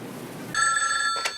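An old telephone bell rings once, a bright metallic trill that starts abruptly and cuts off after under a second, following a brief low murmur.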